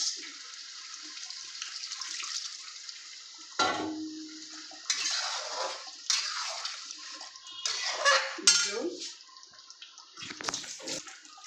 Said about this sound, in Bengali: এবার আমি এই মটনের স্টকটা দিয়ে দিলাম